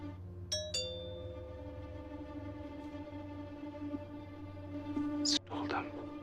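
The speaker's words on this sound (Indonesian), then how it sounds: "tiba-tiba ada bunyi lonceng bel rumah masuk" A doorbell in a film scene sounds two quick chimes, one right after the other, over a low musical drone, and a short burst of voice follows later.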